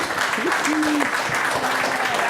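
Audience applause at a startup funding panel, a steady wash of clapping filling the room, with a brief tonal whistle or feedback line riding over it.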